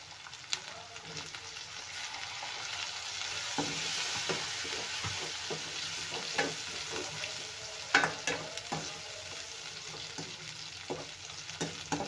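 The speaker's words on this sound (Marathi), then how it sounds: "आता हे पण टोमॅटो पण छान आपण तेलामध्ये नरम होईपर्यंत भाजून घेऊया" Tomatoes frying in oil in a pan with turmeric, a dense continuous sizzle with frequent spatula scrapes and taps, the crackle rising and falling as they are stirred.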